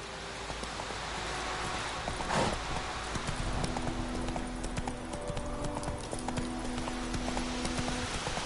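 Rhythmic clip-clop of a galloping horse's hooves in the video game The Witcher 3, steady and fairly close over a constant ambient bed, with a brief whinny-like burst early on.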